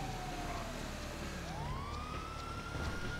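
Police car siren in the video game GTA 5, a steady wailing tone sweeping down then rising again, loud and continuous over engine and road noise.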